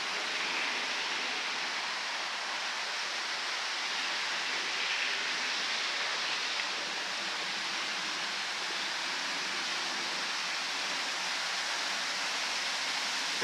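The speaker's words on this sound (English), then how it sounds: "If you can see, there's kind of a little waterfall over there." Small outdoor waterfall pouring into a pond, a steady, even broadband rush of falling water that holds constant throughout, moderately near and with no voices over it.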